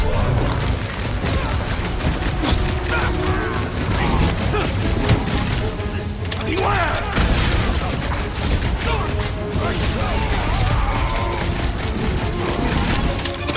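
Rapid gunfire echoes around a ship's reactor in the Guardians of the Galaxy game, with continuous loud volleys of shots and blasts layered under combat noise and character chatter.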